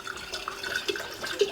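Cold water pours into a container for a barbecue sauce mix, a light, uneven trickle with small splashy accents.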